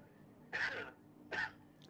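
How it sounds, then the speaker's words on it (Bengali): A patient at a doctor's examination gives two short, forceful coughs about a second apart, close and fairly quiet, with no talk. "আপনি একটু জোরে কাশি দেন।"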